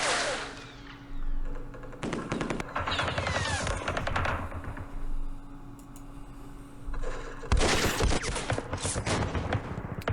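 Opportunity fire in the wargame Campaign Series Middle East: sharp clusters of gunshots and rattling bursts, with a couple of heavy volleys and quieter ticking shots between them. The firing stays at a moderate distance throughout.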